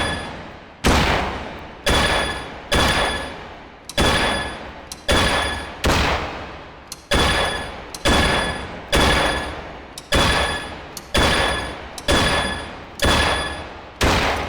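Gunfire in a shooting video game hits pop-up targets, a regular run of about fourteen sharp shots spaced roughly one second apart, each loud crack followed by a short decaying tail, with no talk.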